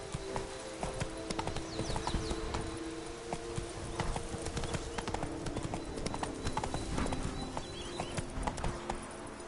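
Horse hooves clip-clop steadily at a brisk pace in The Witcher 3, with a continuous ambient game background underneath and an occasional faint whinny.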